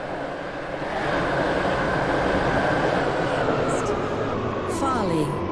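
A three-coach Class 730 Waterline train in the Roblox game Stepford County Railway rolls along in a loud, steady rumble with some rising electric whine and squeals near the end.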